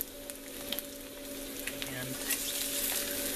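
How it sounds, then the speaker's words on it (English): Eggs fry in butter in a pan, giving a steady close sizzle with a faint hum beneath and a brief word spoken at the start. "And just let those fry."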